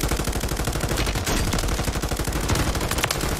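Distant enemy gunfire from a rooftop in an online shooter game, rapid continuous automatic bursts running steadily through the whole stretch without a break, loud and dense, with no voices.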